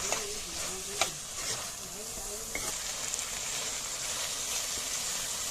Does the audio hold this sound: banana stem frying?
yes